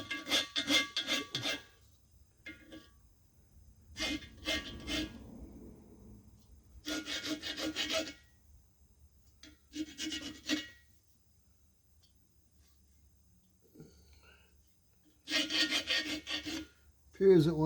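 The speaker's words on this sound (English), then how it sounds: "I'll follow up with a piece of sandpaper." Sandpaper rubs by hand across a Chevy LS engine block being prepped for a line bore, in several separate bursts of scratchy rasping strokes with quiet pauses between them, close and fairly loud.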